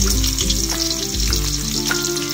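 Steady, close sizzling of onions frying in hot oil, a dense crackle with occasional louder pops and a faint stirring clink, no voices.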